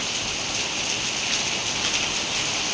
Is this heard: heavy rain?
yes